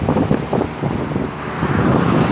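Steady hot wind gusting and buffeting against the microphone on a very hot day in Thailand, a continuous broad rushing roar with no voices.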